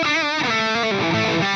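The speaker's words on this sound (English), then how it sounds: "So when I have the volume control all the way up and the boost on, I get this." Electric guitar lead tone through an Atomic Amplifire on a Friedman amp model, boost engaged and guitar volume full up: a loud, sustained, heavily distorted note with bending pitch, played alone.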